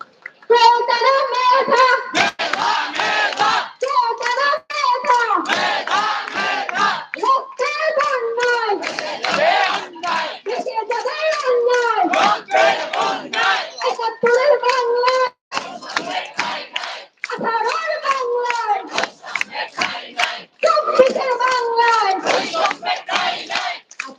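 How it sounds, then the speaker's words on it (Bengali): A large street protest crowd at a road blockade in Dhaka chants slogans in loud, rhythmic call-and-response bursts, many voices together with some clapping, continuous and close. "প্রথমে আমরা একটু স্লোগান দিব"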